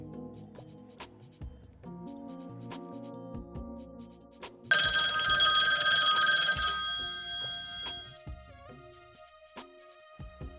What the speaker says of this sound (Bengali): এখন একটা ফোন দিই।